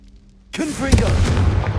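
A Confringo blasting spell detonating in a Harry Potter video game, one sudden booming burst that rolls on with crackling debris, loud and close, with a voice calling out just as it hits.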